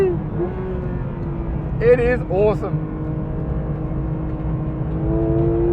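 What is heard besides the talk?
flat-six sports car engine revving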